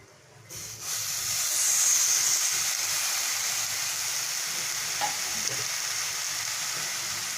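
Kochu shak greens drop into a pan of coconut masala and burst into a loud, sustained sizzle and hiss, with a few scrapes of stirring, then settle into steady frying with no voices.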